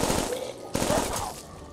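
An M27 rifle fires in Call of Duty Black Ops 2: a loud, rapid burst of close gunshots with a brief gap before a second burst.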